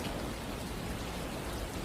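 Heavy rainstorm pouring down as a steady, dense, close hiss with no pauses or variation and no voices.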